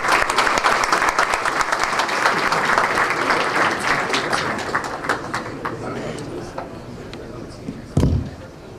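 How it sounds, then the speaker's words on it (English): Loud, dense applause from a large audience at an event for Albania's prime minister in New York, sustained for several seconds before tapering off, with a sharp thump near the end. "So please give it a round of applause for these guys."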